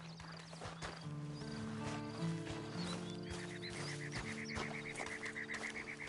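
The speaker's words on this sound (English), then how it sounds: "you better get on this horse" Horse hooves clip-clop steadily through a Red Dead Online game scene, joined by a brief whinny and layered over sustained ambient music and background creature calls.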